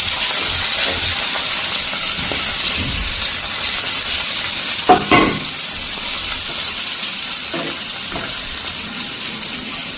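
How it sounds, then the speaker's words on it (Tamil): Boiled pieces coated in turmeric frying in oil, a loud continuous sizzle with occasional stirring clatters and a brief scrape near the middle. "கொதிச்சுட்டு கொஞ்சமாக பொரிச்செடுக்க போகிறோம்"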